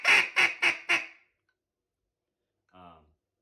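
Someone blows a duck call for four quick, loud, evenly spaced quacks, followed after a pause by one short, fainter note.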